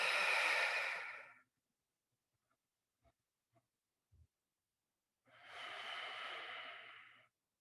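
Slow, deep breaths during heel lifts on a foam roller: a long audible exhale, a quiet pause with a few soft clicks, then another long breath, close and alone.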